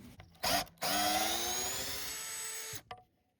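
Bauer cordless drill fitted with an upgraded battery drives a large lag bolt, giving a short burst and then one long steady whine that slowly drops in pitch as the bolt seats, close and loud with no talk.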